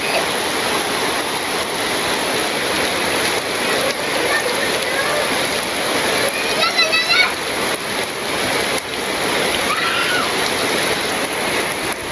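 Rain falls heavily and continuously in a loud, close wash, with faint voices and a few brief tones rising over it.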